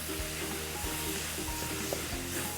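Tinda being added to frying tomato masala in a pan, giving a steady, loud sizzle with scraping and stirring knocks throughout.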